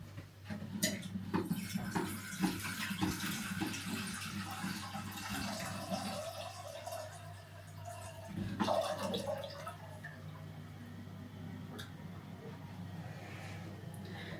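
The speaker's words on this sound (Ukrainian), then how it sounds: "набираємо і воду" Tap water runs and splashes into a pot at close range, a continuous gurgling rush with a few clanks, no talking.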